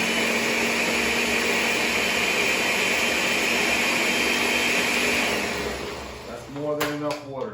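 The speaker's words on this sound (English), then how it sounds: "This is a Ninja blender. This is gonna do it." A Ninja blender runs at full power with a loud, steady whirring whine for about five seconds, then winds down into clattering and a fading motor sound.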